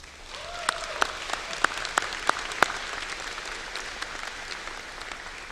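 Audience applause at a summer graduation commencement ceremony for baccalaureate degrees, a broad steady wash of many hands clapping with a few sharper nearby claps and a faint brief voice early on.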